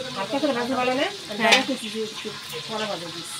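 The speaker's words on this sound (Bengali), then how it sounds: "নার্গিস আপা এখানে রোস্ট ভাজতেছে।" Meat roast fries in a pan with a bubbling sizzle and occasional stirring, heard close but partly under voices talking over it.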